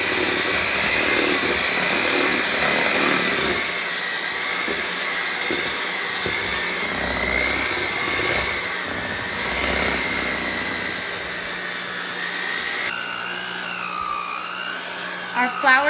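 An electric hand mixer with beaters runs steadily through a thick potato and flour mixture for potato cakes, a loud continuous whir with slight shifts in pitch, and a voice speaks over it.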